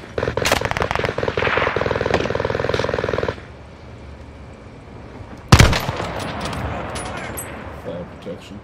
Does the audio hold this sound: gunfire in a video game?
yes